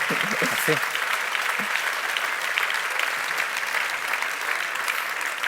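Steady applause from an audience, dense and sustained throughout, with a brief murmur of voices near the start.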